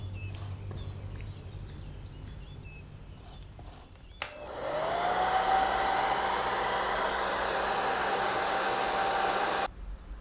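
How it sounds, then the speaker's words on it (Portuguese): A hair dryer on a gentle setting, used to dry paint on a textured canvas, switches on with a rising whine and then blows in a steady, loud whoosh for several seconds before cutting off abruptly. "Eu vou usar o secador bem suave para a tinta permanecer bastante aqui."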